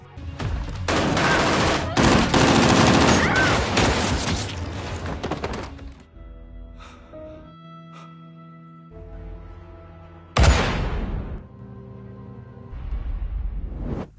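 Heavy volleys of rapid gunfire from a film shootout roar for several seconds, then fade to a low rumble before another sharp burst and a thud.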